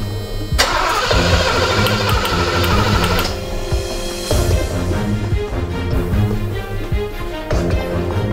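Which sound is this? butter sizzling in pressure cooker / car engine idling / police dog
car engine idling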